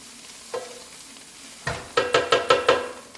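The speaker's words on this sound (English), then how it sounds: "I'm sauteing the garlic, the cilantro, the onions all together" Garlic, cilantro and onions sautéing in a pan, a brief sizzle followed by a run of five or six rhythmic stirring scrapes with sizzling bursts, close and clear.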